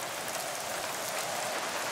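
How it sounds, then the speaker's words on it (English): Rain falls in the hunting game theHunter: Call of the Wild, a steady broadband hiss of drops on surfaces, close and even throughout. "Rain."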